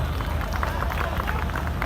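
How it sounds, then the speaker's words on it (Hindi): Dense, continuous applause from a large crowd at an international Urdu poetry recital (mushaira) in Karachi, a steady roar of many hands with murmured crowd noise mixed in. "तालियां बजा के बताएं आपके लिए था"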